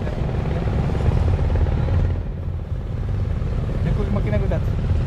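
A fishing boat's engine runs throughout as a loud, steady, low droning rumble close by, with voices talking faintly over it.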